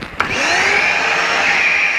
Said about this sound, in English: turn on the hoover